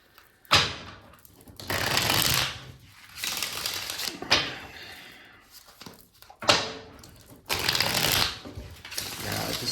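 A very old tarot deck from 1890 being shuffled: several loud, close riffling bursts of card flutter with short pauses between, ending in a final riffle.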